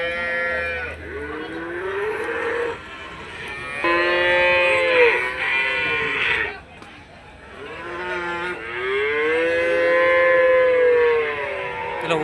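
Cattle at the Kundadam weekly cattle market in Tiruppur low in long, drawn-out moos, several calls in a row from nearby animals over a busy outdoor market background.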